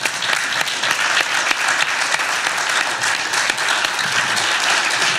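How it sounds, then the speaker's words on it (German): A theatre audience applauds steadily and loudly for a guest called onto the stage at a live show in Graz, the clapping dense and continuous without a pause. "Einen großen Applaus für Anna von Frauen."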